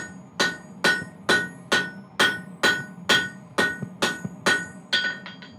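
A hammer strikes a metal rasp on an anvil to flatten it, about a dozen sharp ringing blows at a steady rhythm, close and loud, ending in a few quicker lighter taps.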